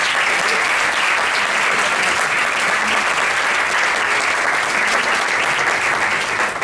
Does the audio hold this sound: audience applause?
yes